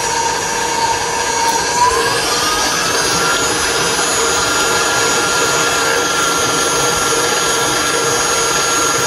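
A refurbished KitchenAid 6-quart bowl-lift stand mixer runs loud and steady, a constant motor whine with a high-pitched hum that shifts slightly in pitch early on, then holds alone at full speed.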